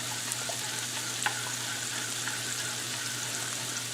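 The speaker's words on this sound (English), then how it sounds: "Yeah, let that sizzle up." Bánh xèo crepe batter sizzles steadily in a hot pan, a dense continuous crackle with occasional small pops, moderately close and without talk.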